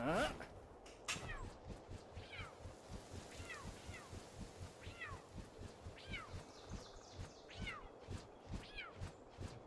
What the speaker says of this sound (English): No idea why it's meowing.